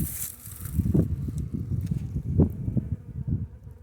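Italian honeybees buzzing close by during a hive inspection, a busy drone of many bees with rising and falling swells and a few louder passes near the microphone.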